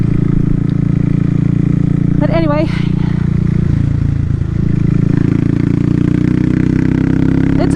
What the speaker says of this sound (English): The exhaust pipe.